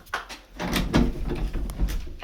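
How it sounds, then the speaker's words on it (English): A stuck door in an old five-bedroom house being forced open, with a series of knocks, thumps and scraping rattles close by. "Ah, the door is stuck."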